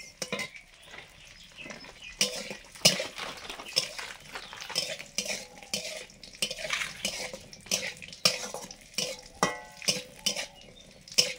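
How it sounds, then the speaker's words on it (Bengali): Cashews and raisins fry in ghee for Basanti pulao, heard as a sizzle under frequent loud spoon scrapes and clanks against the pot. "কাজু কিশমিশ ভাজা হয়ে গেছে।"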